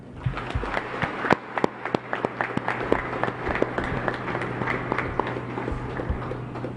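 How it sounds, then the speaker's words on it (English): An audience at a Davao region event applauds to welcome the president of the Philippines, steady clapping from a large crowd with scattered sharper claps, filling the hall for several seconds. "please welcome with a round of applause the President of the Republic of the Philippines, Ferdinand Romualdez Marcos, Jr."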